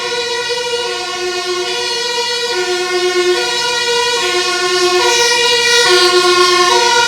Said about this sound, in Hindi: फायर ब्रिगेड की गाड़ी है जी। इसका सायरन बहुत तगड़ा होता है